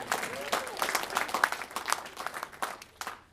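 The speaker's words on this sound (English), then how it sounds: "Round of applause for Gavin, everybody." A magic show audience claps for a volunteer named Gavin, a scattered round of hand claps at moderate volume that swells and thins over a few seconds.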